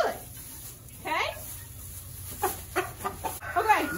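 A backyard rooster gives short, soft clucks in several scattered bursts, heard close by amid people talking.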